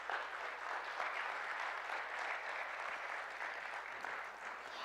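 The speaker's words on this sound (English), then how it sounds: "Let's give him a hand clap." A church audience claps for the pastor, a steady, even patter of many hands that holds at moderate loudness for several seconds with no speech over it.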